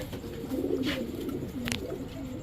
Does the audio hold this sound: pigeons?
yes